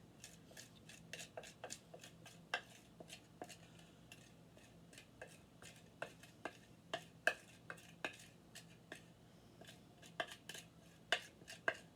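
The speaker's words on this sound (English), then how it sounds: "now we take and we're gonna mix these here two together" Cheese and cream cheese being mixed together in a pan or bowl for a low-carb holiday side dish, with a steady run of light scraping and tapping strokes, close and fairly quiet, and no talking.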